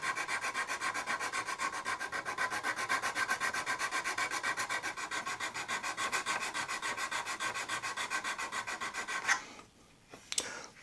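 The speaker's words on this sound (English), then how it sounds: "That needs a little bit of sanding here." A wooden mast for a USS Constitution model ship is sanded by hand with steady, rhythmic back-and-forth rasping strokes close by, ending in a few sharper scrapes.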